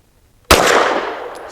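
A single sharp gunshot from a BRG9 Elite Gen 2 pistol firing a Fiocchi 100 grain load, loud and close, with a short ringing decay after near-silence.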